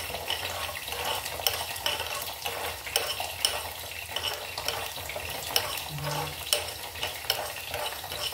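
Ingredients for ushari avakaya pickle fry in a pan on low heat and are stirred steadily, with a continuous close sizzle and repeated scraping of a spoon against the pan.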